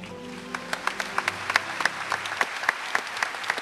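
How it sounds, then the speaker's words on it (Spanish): A church congregation at a Catholic renewal gathering applauds for the Lord, a steady crowd clapping with a few sharp, close hand claps standing out above it as organ-like tones fade. "Un aplauso al Señor."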